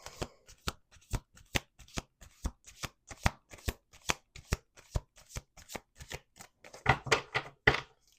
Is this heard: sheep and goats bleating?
no